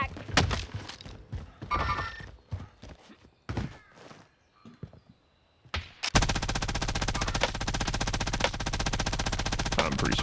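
Rapid bursts of gunfire from a Warzone match ring out in short volleys, then settle into a loud, sustained stream of automatic fire for the final four seconds, with scattered thuds and movement between the shots.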